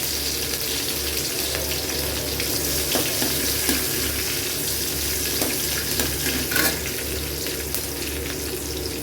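Curry leaves and green chilies fry in coconut oil for spicy kozhukattai, a steady close crackle and hiss over a low constant hum, with faint scraping now and then and no talking.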